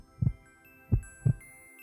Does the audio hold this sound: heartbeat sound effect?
yes